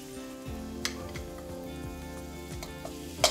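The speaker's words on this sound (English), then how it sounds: "Put that in the hot pan, and then we're going to start to sear the short rib." Short rib sears in hot olive oil in a pan, a soft continuous sizzle and crackle with a few sharper pops, fairly quiet and with no talking.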